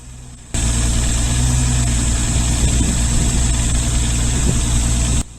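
A mini excavator (yunbo) engine runs steadily at a low idle-like drone while slowly lifting heavy bags of wood chips, starting abruptly after half a second and holding constant and close until cutting off near the end.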